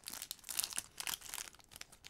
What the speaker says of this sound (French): La magnifique promo de Rosemary que je vais ouvrir maintenant